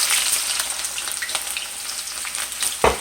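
Sliced onions hit hot oil in a pan for an egg masala curry, giving a loud, continuous sizzle with crackling spits and a brief stirring clatter near the end.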